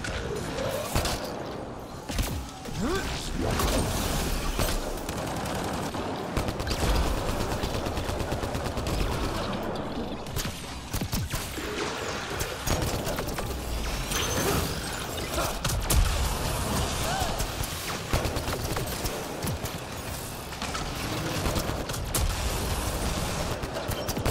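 Video game gunfire in Prodromos: dense, rapid volleys of shots and clattering mechanical noise keep up loudly and without pause throughout, with a faint chirp now and then.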